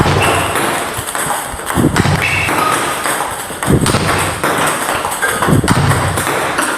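A table tennis ball smashed hard with a paddle, sharp knocking hits repeating roughly every second and a half, fairly close in an indoor hall, with ball bounces and other faint tapping in between.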